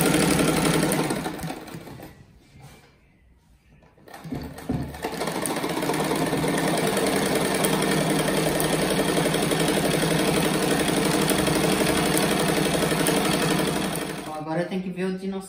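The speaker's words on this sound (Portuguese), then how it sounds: "Agora eu faço uma costurinha aqui na ponta" A close, loud sewing machine runs steadily while stitching the edge of a children's fabric scrap patch mat, stopping briefly near the start and again near the end, with a voice speaking at the end.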